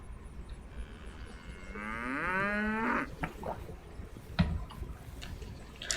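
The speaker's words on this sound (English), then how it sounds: "That's like a cow in the background." A cow lowing in the background on a farm, one drawn-out moo rising and falling for about a second, fairly faint amid quiet ambient rustles and a few knocks.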